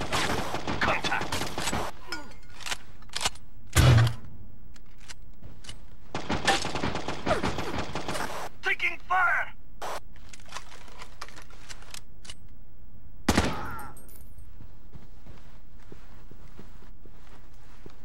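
Gunfire in the Xbox game Rainbow Six 3: Black Arrow, with bursts of loud shots clustered early and mid-way, plus a sharp crack later, separated by quieter stretches of game ambience.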